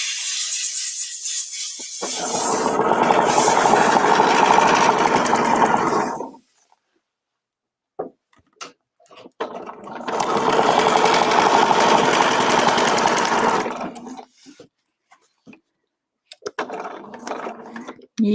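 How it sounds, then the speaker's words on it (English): Sewing machine stitching along a marked line using a template, running in two long steady whirring bursts of several seconds each, close and loud, separated by quiet gaps with small handling clicks. "Stitch to the marked line."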